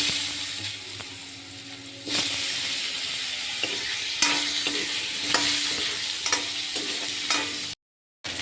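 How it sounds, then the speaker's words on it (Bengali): Pre-fried potatoes sizzle in hot oil while being stirred, with close scraping and clattering strokes of the spatula over a continuous hiss and a brief silence near the end. "ভেজে রাখা আলুগুলোকে ভেজে নেব।"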